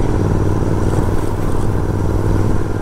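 A Royal Enfield Continental GT 650 motorcycle rides on a punctured tyre, its engine giving a loud, steady, close rumble throughout with no talking.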